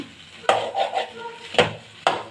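A spoon stirs flat beans and potato curry in a pan, producing soft scraping and shuffling punctuated by three sharp metallic knocks against the pan's side, close and clear.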